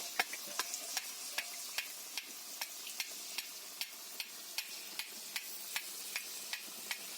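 Boondi batter is tapped through a perforated ladle into hot oil to fry pale white boondi, giving faint steady ticks every half second or so over a quiet, continuous sizzle.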